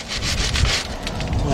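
Scrubbing out the brake pad slots of a Ford truck's front brake caliper bracket, a rough, continuous rasping at close range with quick back-and-forth strokes and no talk.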